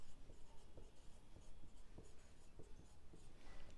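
Pen or marker writing on paper or a board while solving an accounting problem, soft irregular scratching strokes against a steady background hiss, quiet and close, with no talking.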